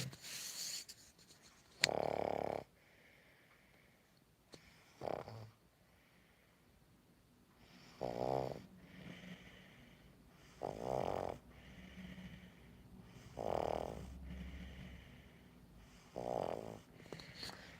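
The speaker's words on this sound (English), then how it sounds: "So he's snoring now. That's a snore." A pug snores in slow, regular snorting breaths, about one every two to three seconds, close and fairly soft with quiet pauses between.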